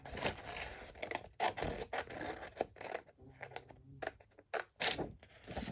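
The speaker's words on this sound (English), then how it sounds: "So I'm just going to cut this out." Paper being cut by hand with scissors or a craft blade along a scored line on a sheet of paper, giving repeated short scratchy snips and scrapes close up, with brief pauses between strokes and no talking.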